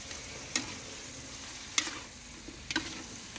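Seafood rice noodles stir-fry in a hot pan, with a steady sizzle and three sharp scraping strokes of the utensil, close and moderately loud, with no talking.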